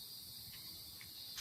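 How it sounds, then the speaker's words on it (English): Cicadas in Baltimore buzz in a faint, continuous high drone outdoors, a few brief louder chirps rising above it. "those are cicadas."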